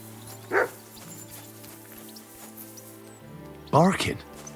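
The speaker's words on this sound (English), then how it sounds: "Barking?" Two short barks from a dog in the medieval game Kingdom Come: Deliverance II, a brief yelp early on and a louder burst near the end, set over a steady low ambient hum with little else in between.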